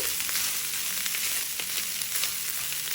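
Garlic rice is stirred in a hot pan, a close, steady sizzle broken by brief scraping strokes, heard alone without talk.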